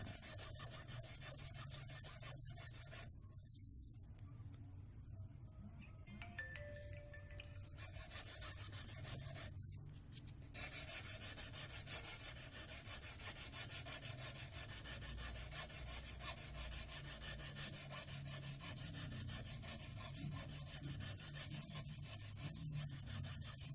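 Sandpaper rubs steadily over hand-filed metal to smooth away file marks on a handmade XL Petruk-style urek, producing a continuous close scratchy rasp with a few brief pauses and no talk.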